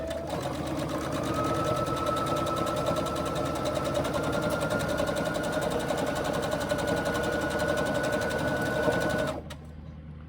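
A sewing machine runs a quarter-inch side seam in one continuous buzzing stretch of rapid stitching, steady and close, then stops abruptly just before the end.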